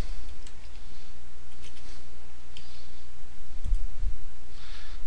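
Scattered keyboard clicks in a quiet room, light and irregular, a handful of taps spread over a few seconds while part of a name is typed into a computer.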